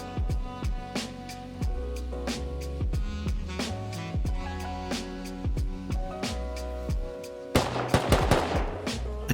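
Video game gunfire crackles in quick bursts of sharp shots over a steady tonal background, with a denser, rougher volley near the end.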